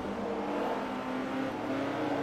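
A car engine revs in the Forza Motorsport 3 racing game, a steady, droning engine roar holding one pitch throughout, moderately loud with no voices.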